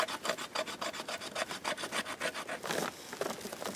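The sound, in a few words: Bear Forest Knives GT-EDC knife carving wood fluff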